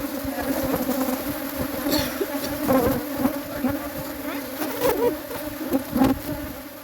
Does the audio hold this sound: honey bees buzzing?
yes